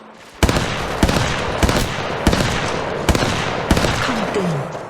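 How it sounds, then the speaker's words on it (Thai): Loud bursts of automatic gunfire in the mobile game Apex Legends Mobile, several rapid volleys a second or so apart over a constant background of game noise. "ฉันกำลังถูกยิงใส่"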